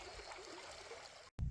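Floodwater of a river at Menindee risen up to the levee bank behind houses, flowing with a steady soft trickling rush, fairly faint and alone, cut by a brief dropout near the end.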